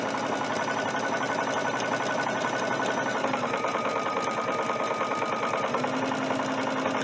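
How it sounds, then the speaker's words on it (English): A Brother sewing machine stitches steadily toward the corner of a lined double-square pocket, its fast even motor hum and needle rattle continuous and close for several seconds without speech. "we're going to stitch all the way to the corner."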